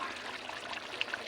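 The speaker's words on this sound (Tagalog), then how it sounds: "Lagyan ko ng maraming mantika." Plenty of cooking oil pours into a pan for frying shrimp bagoong, a brief close, smooth liquid stream with a few small drip-like splashes, and no talking.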